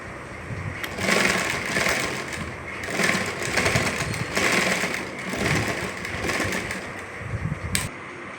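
A sewing machine stitches a lined, open-style chudidar top in steady bursts of close mechanical whirring, with short pauses between runs and a brief sharp click near the end.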